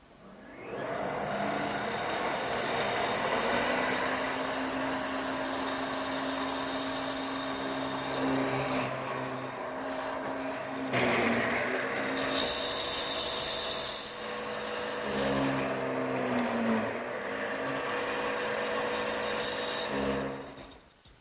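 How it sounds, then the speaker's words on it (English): A drill press bores a series of plunges into a wooden table leg to cut mortises, its motor whirring loudly with rising and falling cutting bursts and short pauses between plunges. "I've also set the depth of the drill press so that I end up with about a 3/4 inch deep mortise."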